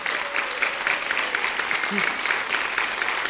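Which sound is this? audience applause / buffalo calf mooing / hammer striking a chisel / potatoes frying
audience applause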